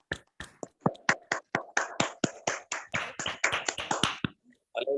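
A small church audience claps to welcome guest pastor JP Sharma, a fairly quiet run of distinct, closely spaced hand claps that stops near the end.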